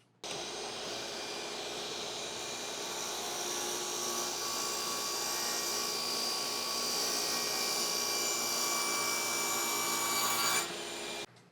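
A table saw cuts a tapered wooden leg held in a jig, with a loud, steady whirring roar for about ten seconds that starts and stops abruptly, close by.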